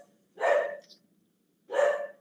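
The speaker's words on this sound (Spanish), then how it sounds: "voy a encerrar mi perrito, porque si no, no se va a callar" A small pet dog barks twice, loud and close, in a quiet indoor room, each bark a short sharp burst about a second apart.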